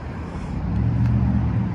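A 2013 Infiniti G37 hums steadily from inside the cabin, a low, even engine and road drone that holds constant and fairly loud throughout, with no one speaking.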